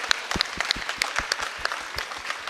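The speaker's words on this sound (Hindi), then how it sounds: "एक बार जोरदार तालियों द्वारा उसकी स्वागत किया जाए" A small audience at a spiritual discourse gives a welcoming round of applause. Separate claps sound close and sparse in an uneven rhythm.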